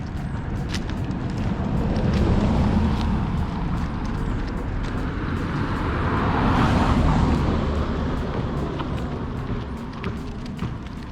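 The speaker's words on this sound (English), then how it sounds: "Another car." A car goes by on a road near the beach in Port Antonio, Jamaica. Its broad rumble swells, peaks and fades over a few seconds against steady outdoor background noise.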